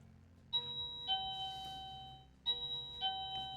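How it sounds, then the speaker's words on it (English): An electronic doorbell chimes twice, each a pair of clear ding-dong tones about two seconds apart, fairly faint against a quiet background, with no talking. "That's my doorbell."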